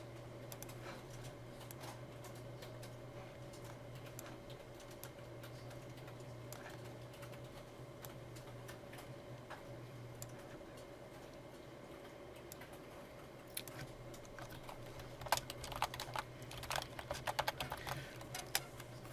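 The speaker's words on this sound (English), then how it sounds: "I'm going to type it in and see." Keys on a computer keyboard clatter in a lecture room over a steady low hum, quiet and even at first, then quicker and louder bursts of taps near the end.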